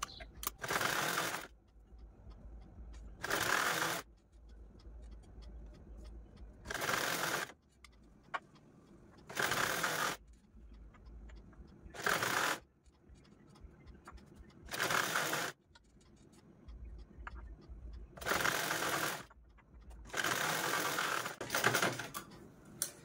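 A sewing machine stitches the belt of a baby bunny cap in repeated bursts of rapid mechanical whirring. Each burst lasts about a second and is separated by quiet pauses. The machine sounds close and fairly loud.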